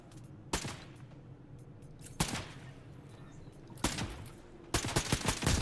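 Gunfire in a first-person shooter game, SMG bursts: several sharp, loud volleys cracking out at irregular intervals, the last a rapid string of shots, over a steady low game-ambience hum.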